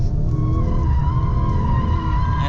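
An Audi S3 slides with a sustained tyre squeal over steady engine and road rumble, heard continuously and fairly loud from start to finish.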